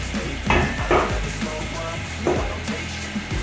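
Onions fry in a pan for a minced meat dish, giving a continuous close sizzle broken by a few louder scraping stirs of a utensil against the pan.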